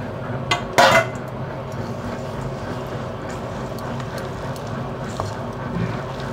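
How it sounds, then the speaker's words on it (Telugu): Spoon stirring a batter of onion, green chillies and cumin in a bowl for onion minapa vadalu, with a sharp clink against the bowl near the start, then soft, steady scraping and mixing sounds throughout. "ఒకే డైరెక్షన్లో ఇలా కలుపుకోవాలి."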